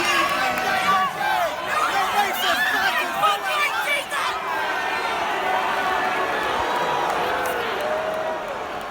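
A crowd at a Trump rally makes a continuous din of chatter and scattered cheers and whoops, with many voices overlapping at moderate distance.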